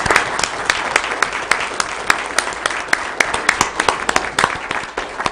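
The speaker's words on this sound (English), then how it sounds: "Let's give John Annie's team a round of applause." Sustained round of applause from the audience at a Weber County commission meeting, honoring a staff team; dense, steady clapping with sharp individual claps standing out throughout.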